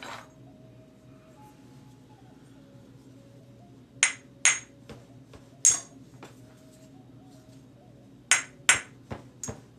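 Sharp, bright clinks of a bone tool striking flint rock in knapping, coming as scattered single taps and quick clusters over a low steady background hum.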